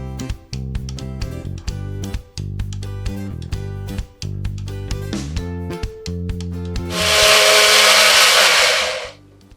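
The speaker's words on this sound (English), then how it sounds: "And everything goes into the blender." Blender puréeing chili chutney for Mauritian gateaux arouille, first a series of short stuttering pulses, then a loud, continuous high whirring roar of smooth blending, close up with no talking.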